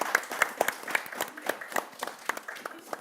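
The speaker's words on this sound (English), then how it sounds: "I want to give you one last round of applause" Audience applause for the panelists after a panel discussion: scattered individual claps from a modest crowd, fairly near and steady, with a few louder sharp claps over about three seconds.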